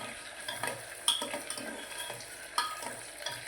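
Potatoes with their skins on, stirred as they fry in oil for a Gujarati potato curry: a soft, quiet sizzle with scraping of a spoon against the pan and a couple of sharper clinks, no speech.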